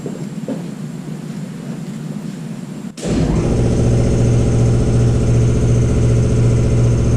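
An air compressor in a workshop kicks on after a low background hum and then runs loud and steady, its motor droning with a strong, continuous pumping tone.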